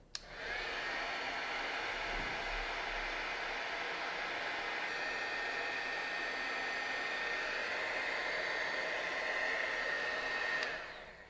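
A heat tool runs with a steady, loud whooshing roar for about ten seconds as it melts clear embossing powder on a stamped watermark ink image, starting and stopping abruptly with no talking.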